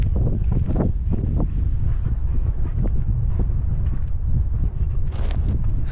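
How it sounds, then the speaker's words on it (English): Wind gusts across an exposed cold-weather mountain campsite facing Mount Rainier, a steady, close, low rumble buffeting the microphone throughout with a few sharper gusts and no talk. "Got a little bit of a breeze, which hopefully will calm down a little bit."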